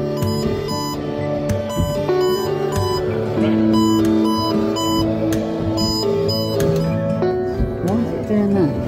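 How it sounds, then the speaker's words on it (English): An alarm on a boat on the River Thames sounds as a series of sharp, repeated beeps at an uneven rhythm, heard under a man's speech and other boat noise. "I've got some kind of alarm come up"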